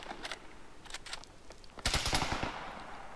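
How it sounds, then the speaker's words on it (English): Gunfire in the military shooter game Arma 3: scattered distant shots early on, then a loud close burst of rapid automatic fire that rattles on for about a second and then fades, with no talking. "Somebody's shooting at me."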